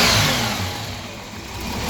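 A VK Commodore car engine revving quickly, loud and close, the pitch rising and falling within a couple of seconds.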